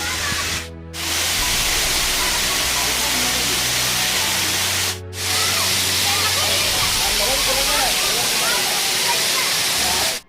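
Njandirukki waterfall rushes in a loud, continuous broadband roar heard from nearby, briefly dropping out twice while a person speaks over the falling water.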